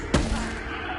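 A spell cast in the Hogwarts Legacy video game lets off a single sharp explosive burst near the start, followed by a lingering rumbling decay under steady background ambience.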